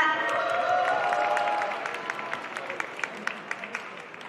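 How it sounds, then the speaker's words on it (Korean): Applause from the audience at a K-pop girl group's live stage, loud at first with cheers over a sustained tone, then thinning to scattered individual claps that fade out. "큰 박수 한 번 더 부탁드리겠습니다"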